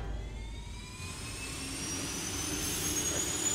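A jet engine roars inside the sandbox game People Playground, a steady close whine and rush with thin rising tones that swells slightly toward the end, with no talk over it.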